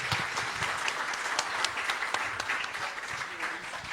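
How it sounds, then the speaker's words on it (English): Audience applause at a public forum and solidarity ceremony, scattered individual claps over a steady crowd patter, moderately distant and continuous for several seconds. "Give us a round of applause and thank you to the speakers."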